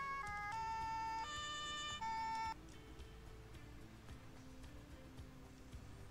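Police siren in the video game Autobahn Police Simulator 3: a two-tone wail alternating in steady steps, loud for about two and a half seconds before cutting off, leaving a low engine drone.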